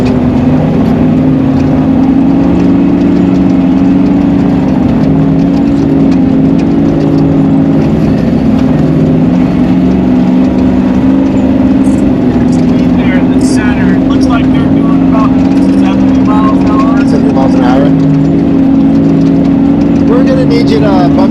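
Off-road race vehicle engine at King of the Hammers, running as a loud, steady drone with slight swells in pitch, heard from inside the cabin under radio chatter and voices.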